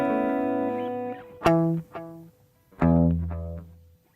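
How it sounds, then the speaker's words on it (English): Distorted electric guitar through the single repeat echo of an Elevate effects unit: sustained chords, then sharp plucked notes, each followed by one fainter repeat. "So you got a basic single repeat echo."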